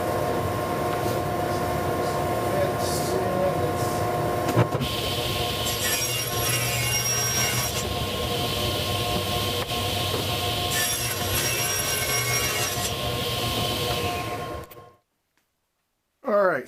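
A woodshop dust collection system runs as a loud, steady broadband roar with a constant hum, continuous for about fifteen seconds before cutting out abruptly, with brief machine noise returning at the very end.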